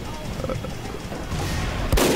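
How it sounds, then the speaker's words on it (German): Sniper rifles fire in Team Fortress 2 over a busy game background, with a sudden loud, sharp shot cracking near the end of the stretch. "Die Sniper-Gewehre schießen so schnell"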